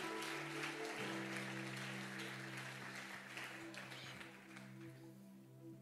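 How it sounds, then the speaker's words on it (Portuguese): A church congregation applauding together, a dense sustained wash of clapping that fades slightly toward the end, with a low hum of voices or music under it. "E você aplaude o nome do Senhor, o mais forte que você puder, por cima da tua cabeça"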